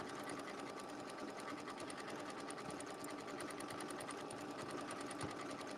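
A sewing machine stitches along the edge of an appliqué Christmas motif disc. The steady, rapid motor whir runs continuously at a fairly quiet level, with no voices over it.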